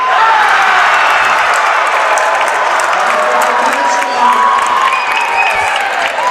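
A high school varsity boys' basketball crowd roars and cheers steadily in a gym after a dunk, a loud dense wall of shouting and applause holding for several seconds without letup.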